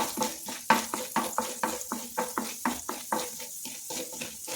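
Chana dal and urad dal being stirred with mustard seeds in hot oil, a soft steady sizzle broken by rhythmic scraping strokes about twice a second, close and without talking.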